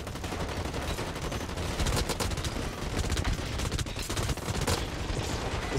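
Rapid gunfire from the video game Blacklight: Retribution, with dense bursts of automatic shots crackling continuously at moderate loudness, with no talk over it.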